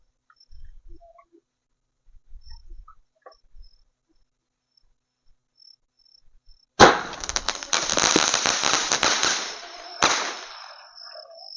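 A Sivakasi gift-box firecracker fitted with a handmade fuse bursts into a loud, sustained crackling spray of sparks, lasting several seconds before tapering off, after quiet outdoor moments with faint insect chirps.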